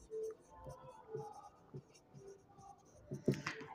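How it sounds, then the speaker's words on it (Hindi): Marker or chalk strokes scratch across a board during a physics lesson on electric charges, coming as short irregular taps and scrapes with pauses between letters, fairly close and quiet, alongside faint murmuring from the teacher. "तो बड़ा लिख देता हूँ, अट्रैक्ट करता है।"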